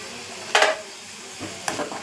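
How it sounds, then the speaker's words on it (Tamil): Spices for a tempering drop into hot oil, giving two short, bright sizzling bursts a second apart over a quiet kitchen background. "இப்போது தாளிப்பை போட்டுட்டு உங்களுக்கு நான் திரும்ப அதை காமிக்கிறேன்"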